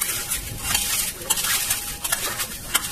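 Fried chura and dry fruits are stirred together in a pan, with a steady scraping and rustling of the spatula against the metal and soft crackling, close and without talk.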